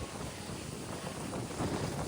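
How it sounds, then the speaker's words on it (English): Strong wind in Hawaii buffets the microphone with a dense, roaring rumble that swells slightly toward the end. "Wow, it's windy."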